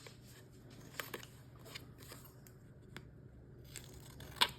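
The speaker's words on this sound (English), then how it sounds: "I'm just gonna trim it." Scissors trim paper for a nutcracker folio, giving a few quiet, close snips and rustles separated by pauses, ending with one sharper cut.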